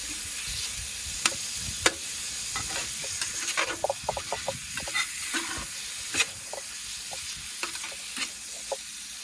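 Venison browns in butter in a pot: a continuous close sizzle cut by repeated sharp utensil clicks and scrapes as the meat is stirred, irregular taps scattered across the whole stretch.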